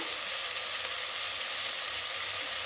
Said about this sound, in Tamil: தக்காளி கொஞ்சம் வதங்கட்டும்